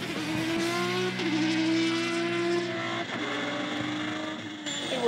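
A sports car engine drones and shifts pitch as the car laps a racetrack, its steady exhaust note rising and easing through gear changes, with a faint tire squeal, close and loud, and no one speaking.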